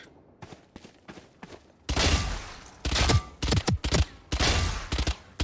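Spectre submachine gun from the video game Valorant firing in short bursts, loud clustered shots separated by quieter gaps, with lighter clicks and handling noises before the first burst.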